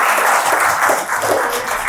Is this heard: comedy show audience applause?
yes